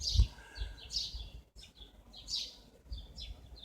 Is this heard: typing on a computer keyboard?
no